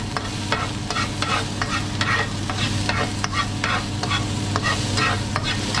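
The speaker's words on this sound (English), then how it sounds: "Saute these until they're a bit brown." Food sautéing in a pan on a home stove over lowered heat, a steady sizzle and frying hiss with repeated stirring scrapes and clinks throughout, close and continuous with no talking.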